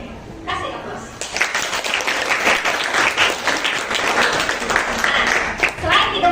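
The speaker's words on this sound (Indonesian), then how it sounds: "Kasih aplaus." A classroom of students gives a sustained round of applause, loud and close, with scattered voices and cheers mixed into the clapping throughout.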